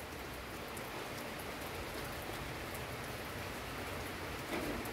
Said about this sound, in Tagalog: Mahina man siya nga ulan guys